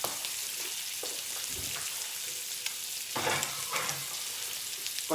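Fresh hand-dived Orkney scallops sizzle and fry in a hot pan, a steady crackling hiss with sharper bursts of spitting, close and alone without talk.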